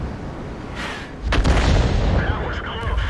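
A World of Tanks artillery shell fired at a Super Conqueror tank, heard as a sudden loud boom midway through with a rumbling, decaying tail after a quieter stretch of background battle noise.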